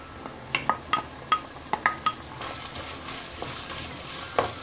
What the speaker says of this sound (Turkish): Pembeleşene kadar kavuruyoruz.